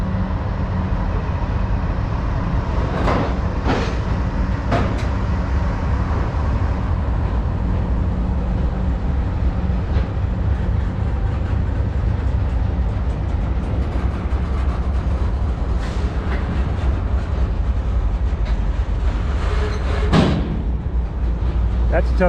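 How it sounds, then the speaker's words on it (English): A long, steady low rumble of a passing oil freight train, likely from North Dakota, fills the whole stretch, with a few brief higher squeals and clanks over the continuous roar. "There's an oil train, probably on its way out from North Dakota."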